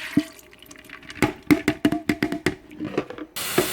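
Water splashes and trickles from a tap into a bowl of split peas in a home kitchen, a series of close, irregular pours and drips ending in a brief steady rush.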